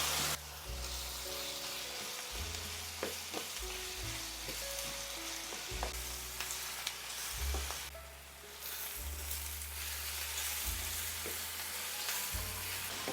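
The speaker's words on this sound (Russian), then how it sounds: "Лук обжариваю до золотистого цвета." Onion frying in a pan until golden, giving a steady sizzle with occasional stirring scrapes, heard under a loud background of rhythmic low musical tones.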